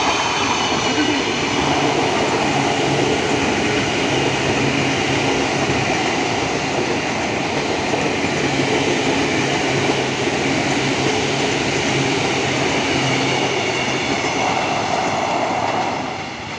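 A Tokyo Series 8000 commuter train passes close by on the Bekasi line, with a steady, loud rumble of wheels and rail clatter that fills the whole stretch and only eases slightly at the end.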